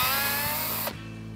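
A power driver spins out a headlight screw on a 2012-2015 BMW 3 Series F30, a steady close whirring buzz that cuts off abruptly after about a second, with no voices.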